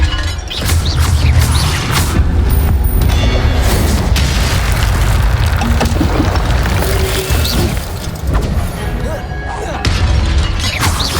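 Spell-casting explosions in the video game Hogwarts Legacy, heard as loud, continuous booming blasts and crashes layered densely over a rumbling game soundtrack for the whole stretch.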